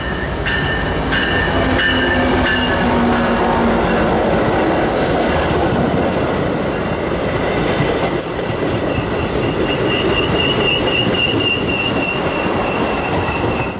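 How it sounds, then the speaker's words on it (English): A Milwaukee West commuter train, number 2247, rolls into Roselle station with loud, continuous rail rumble, clickety-clack, and high wheel squeal that rises steadily as it pulls in close. "Milwaukee West train number 2247 to Big Timber is now arriving"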